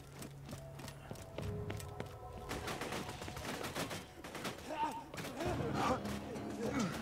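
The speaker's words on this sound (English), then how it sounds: "Seriously, I'm getting shot at." Borderlands 2 video game gunfire in the Three Horns Valley: repeated sharp shots and rapid bursts, some near and some farther off, rattling irregularly over several seconds with other game sounds and voices mixed in.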